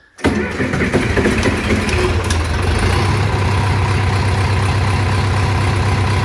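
A John Deere 2510 tractor engine cranks briefly and catches, then settles into a loud, steady rumbling idle that runs on without interruption, close by and with no voices.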